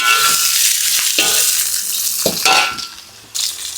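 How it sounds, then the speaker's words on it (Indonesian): Shallots, garlic and egg sautéing in a pan give a loud, steady sizzle, with scraping stir strokes and a few light clanks of utensil on pan, close up and with no talking. "di sini bawang merah, bawang putih kita tumis"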